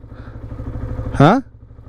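A motorcycle engine idles with a low, steady rumble, briefly overlapped by a loud, close voice near the end.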